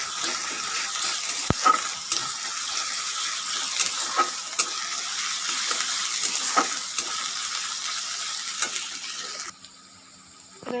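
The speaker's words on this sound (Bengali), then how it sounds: "এবার 1 চামচ আদা রসুন বাটা দিয়ে দেব। দিয়ে ভালো করে কষিয়ে নেব।" Ginger-garlic paste fries in a pan for a shol fish kalia while a spoon scrapes it around. A steady sizzle carries regular sharp scraping clicks, then quiets near the end.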